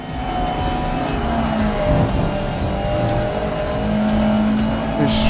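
A racing car drifts in the GRID Legends video game, its engine droning steadily with a tire squeal rising and fading over the continuous game audio.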